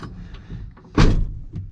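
The driver's door of a GMC truck with a broken inner door handle thuds shut once as the driver climbs in, a short, close, solid slam after some shuffling.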